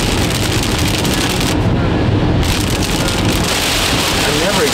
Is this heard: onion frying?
no